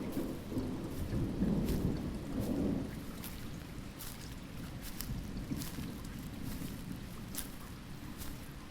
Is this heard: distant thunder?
yes